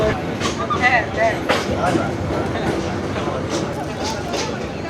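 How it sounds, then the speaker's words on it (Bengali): The Sagarika Express, a small local passenger train, runs with a loud, steady rumble and rattling carriages heard from on board, with faint voices in the background. "সাগরিকা ট্রেনে এখন যাচ্ছি দেখুন সাগরিকা ট্রেনটা একটু দেখিয়ে দিচ্ছি আপনাদের"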